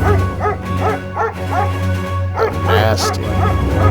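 A dog sound effect of repeated yipping barks and whimpering whines, several short bursts in a loose rhythm, loud and close, with a steady low hum beneath.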